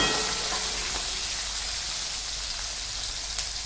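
Onion frying in a pan with mustard seeds, cumin and curry leaves, a steady, even sizzle held at constant loudness with no talking.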